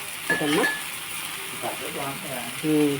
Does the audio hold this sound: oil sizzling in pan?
yes